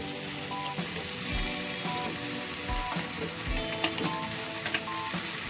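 Fried potato pieces sautéing in a ginger-cumin spice paste for Bengali rohu fish curry, a steady sizzle with repeated scraping stirs of a spatula against the pan, no voices.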